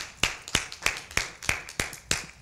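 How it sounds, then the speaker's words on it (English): A church congregation claps hands together in a steady rhythm, eight sharp claps about a third of a second apart, fairly close and clear with no talking. "Give the Lord a hand clap."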